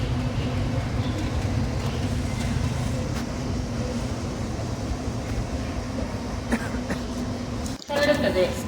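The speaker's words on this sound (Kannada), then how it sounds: "ಹೊಂಟದ್ ನೋಡ್ರಿ ನಮ್ಮ ಟ್ರೈನ್ ಈಗ" A passenger train pulls out of a railway station with a steady low rumble and rolling clatter throughout; a person speaks over it, and a short sharp burst comes near the end.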